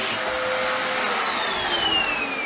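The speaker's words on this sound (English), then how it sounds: "It's like 7:30 in the evening and he needed to hoover it before bed." A vacuum cleaner runs steadily while hoovering a bedroom carpet in the evening, a loud, close, continuous motor whine with a slowly falling tone, alone without voices.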